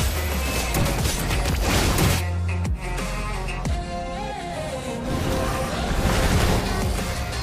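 Crashing ocean waves from Kadita's skill in the Mobile Legends video game, a loud, dense surge of water that rolls on continuously with brief swells and dips.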